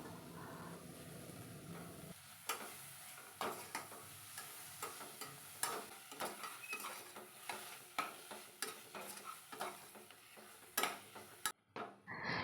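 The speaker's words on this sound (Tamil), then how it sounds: "கட் பண்ணி வச்சுருக்க கொத்தமல்லி, புதினா இது வந்து ஒரு கை அளவுக்கு எடுத்து அதையும் போட்டு நல்லா எண்ணெயில் வதக்கிக்கணும்" Chopped coriander and mint stirred into hot oil for mutton biryani, sizzling steadily while a spoon scrapes the pan in a quick, repeated rhythm of sharp clicks, close and fairly quiet.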